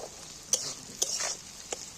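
Soft sizzling in a pan with a few sharp scraping clicks of a spoon stirring spiced meat and potatoes, close and fairly quiet.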